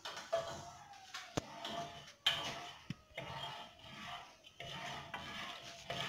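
A spoon scrapes and rubs against a pot while heated raw milk is stirred for homemade cheese, producing soft rasping strokes in uneven bursts with brief sharp knocks, close and fairly quiet.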